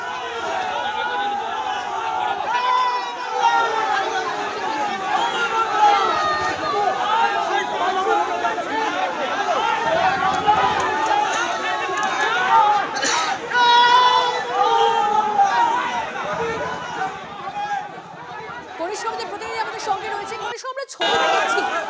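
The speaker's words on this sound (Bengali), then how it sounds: "সমবায় জিতে জয় শ্রীরাম স্লোগান বিজেপি।" A dense crowd of BJP supporters chants Jai Shri Ram slogans after their co-operative society election win at Gokulnagar, Nandigram; many voices overlap loudly and continuously, with surges of shouting throughout.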